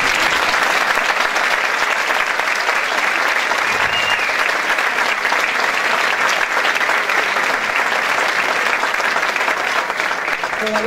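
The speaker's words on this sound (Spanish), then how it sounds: "un aplauso para el profesor de coro" A concert audience applauds the choir teacher during a school music performance with a student band, long, loud and dense clapping sustained throughout, heard close with a few faint voices underneath.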